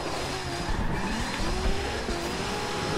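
A car drifting with the e-brake in the racing game Forza Horizon 2 gives a sustained engine roar under continuous tire squeal and skidding for about three seconds, loud and close, with no talking.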